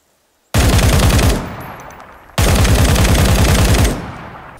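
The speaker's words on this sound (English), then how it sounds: "why are you shooting at me?" Close, loud automatic gunfire from the video game Ground Branch comes in two sustained bursts of rapid shots, each well over a second long, aimed at the player and separated by a short lull with a fading echo.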